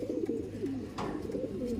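Soft, low cooing of pigeons, a few rolling warbled coos close by, with a brief rustle in the middle.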